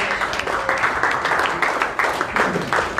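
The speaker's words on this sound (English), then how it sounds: "give a huge round of applause to the winners of the Dr." A standing audience at the 2019 UK Lifesaver Awards applauds the Dr. Hany El Banna Lifetime Achievement Award winners with dense, lively clapping that pulses in small surges and continues throughout.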